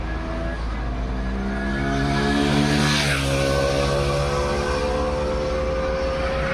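A Bajaj Pulsar 160 NS motorcycle passes by, its engine note rising as it approaches, peaking loud and close, then dropping in pitch as it moves away against steady background noise.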